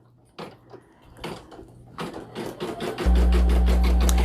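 An embroidery machine on a 5x7 hoop starts sewing white thread, irregular clicks and taps building into rapid rhythmic stitching, then a loud steady hum takes over near the end.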